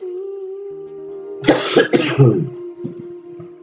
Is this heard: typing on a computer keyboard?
no